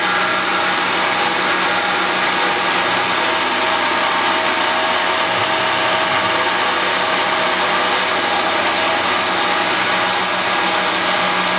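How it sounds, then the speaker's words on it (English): A milling machine cuts the bottom of an aluminum air pan for a small V8 engine, a steady, loud, high-pitched whine with constant hiss and no pauses. "Now it should be milling the bottom of the pan."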